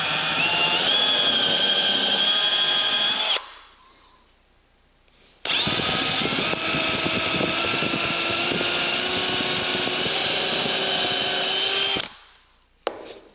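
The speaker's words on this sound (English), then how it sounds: "I'm going to drill an 1/8 inch hole right down where I center punched that circle" A drill bores an 1/8 inch hole through sheet metal at a center-punched mark, a loud steady whine for about three seconds, a pause, then a second longer run of about six seconds with grinding chatter.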